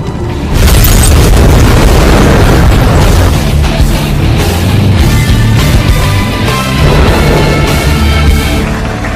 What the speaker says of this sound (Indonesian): JJ langsung mengatakan kepada Sophie, mungkin saja memang mobil itu tidak akan meledak, tapi dia mempunyai rencana lain, mengeluarkan satu granat